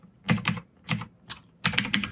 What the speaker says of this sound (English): let me just type in a really quick code example here.